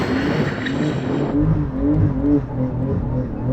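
Porsche 911 accelerating hard with its tyres spinning, a loud, close engine roar climbing through the revs over a hiss of tyre scrub, alone with no talk.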